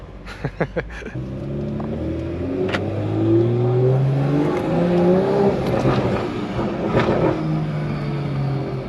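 A car engine with a valvetronic exhaust starts with a few sharp cranks, heard from inside the car, then settles into a deep, throaty rumble with rising and falling revs.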